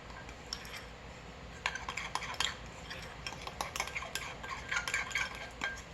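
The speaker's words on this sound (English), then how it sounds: "So now I'm going to give this a stir." A spoon scrapes and taps against a bowl while chocolate lava cake batter with dark baking cocoa is stirred, giving soft irregular clinks and scraping, close and fairly quiet with no talking.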